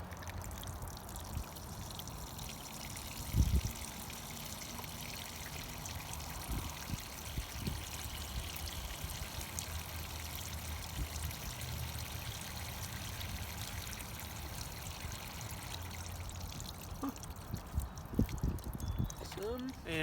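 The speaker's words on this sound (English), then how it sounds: "with your second cup of water, pour it slowly over the stones." Water trickles slowly from a cup over stones in a small groundwater demonstration, a soft continuous pour under steady background noise with a few brief knocks, while people talk nearby.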